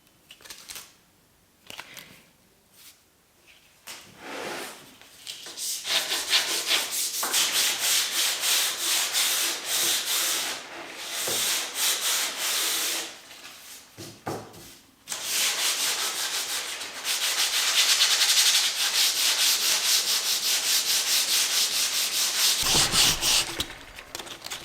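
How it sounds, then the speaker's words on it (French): Varnished furniture being sanded by hand, first with coarse then fine sandpaper, in long continuous scratchy rubbing strokes with brief pauses between passes, close and fairly loud, and no one speaking. "j'ai commencé avec du gros grain pour vraiment enlever le maximum le vernis, et j'ai fini avec un grain beaucoup plus fin"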